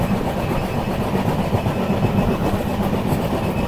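Darjeeling Mail train (12343, Sealdah to NJP) running on the rails, a steady, continuous low rumble of wheels and carriage throughout, with no talking.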